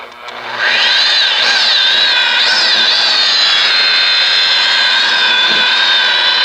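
Polisher fitted with an 8-inch pad spinning up on a yellowed headlight, a loud, close, sustained high whine that rises and settles into a steady tone, with no talk.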